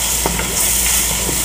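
Chopped onion, shallot and green, red and yellow peppers are stirred in a pot for gumbo, giving a soft, continuous sizzle with faint scraping from the spoon throughout the short moment.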